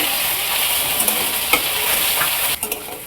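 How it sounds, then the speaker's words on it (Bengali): Bay leaf, dried red chilli and whole cumin seeds hitting hot mustard oil, a loud, close, steady sizzle with a few small crackles and a quick clatter near the end. "আমার তেলটা গরম হয়ে গেছে, আমি এটা সরষের তেলে বানাচ্ছি। দিয়ে দিলাম তেজপাতা, শুকনো লঙ্কা, আর দিয়ে দিলাম কটা গোটা জিরে।"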